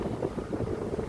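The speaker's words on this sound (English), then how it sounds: "It is so windy today." Strong wind at Legian Beach, Bali, blowing as a steady low rumble and buffeting against the microphone with no talk.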